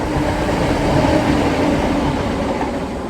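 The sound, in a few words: train passing by near canal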